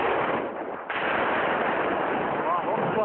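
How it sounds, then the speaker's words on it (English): A government tank fires its gun in a Damascus suburb during the Syrian conflict, a heavy boom rolling into sustained rumbling gunfire, loud and harsh over a muffled, band-limited field recording. "in the suburbs of Damascus, a government tank opens fire."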